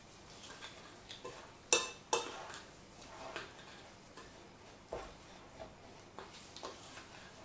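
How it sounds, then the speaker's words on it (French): Chocolate preparation being stirred by hand in a bowl, with soft scraping and repeated light clinks of a utensil against the bowl, a few sharper knocks in between, close and quiet, with no voices. "Je vais mélanger."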